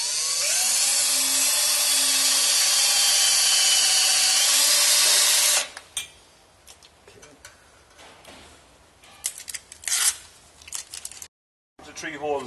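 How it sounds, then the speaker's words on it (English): A high-pitched power drill whines steadily for several seconds drilling holes while fitting trailer lights, then cuts off, followed by scattered clicks, knocks and handling noises. "then we'll drill the holes"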